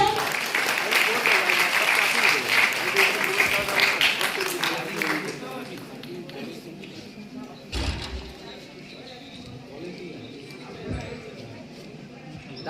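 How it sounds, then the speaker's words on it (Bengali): An audience at a B.Ed college prize-giving ceremony in Raiganj's Bidhan Mancha hall claps loudly for about five seconds. The applause then fades under a speaker on a public-address system. "একটু জোরে করতালি হয়েছে"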